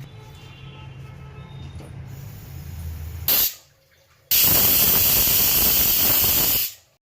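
A pressure cooker boiling potatoes vents steam: a brief sharp hiss, a pause, then a loud, close, sustained hissing burst lasting about two seconds before cutting off. No talking.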